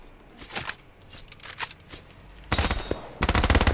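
Automatic weapon fire blasts at swarms of zombies in the online game OutlawZ. Quieter shots and rustling lead into two loud, rapid, close bursts near the end.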